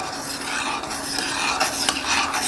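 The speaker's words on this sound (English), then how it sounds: "And then I'm going to give that a slight stir here." Whiskey grain mash with yeast being stirred in a fermenting vessel, giving a soft continuous wet swishing and scraping with no talking.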